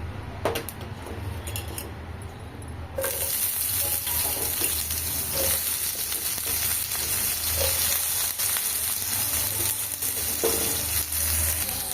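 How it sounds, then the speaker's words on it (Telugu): Onions fry in a kadai with turmeric until reddish, a steady loud sizzle that jumps in intensity a few seconds in, with occasional scraping stirs and utensil clinks throughout. "ఇలా బాగా రెడ్ కలర్లో వచ్చేటట్టు ఉల్లిగడ్డ బాగా వేయించుకోవాలి"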